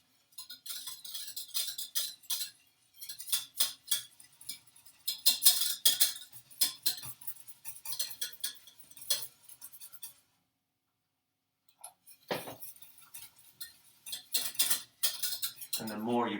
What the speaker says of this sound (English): I add in a little bit, give it a soft stir and go quicker.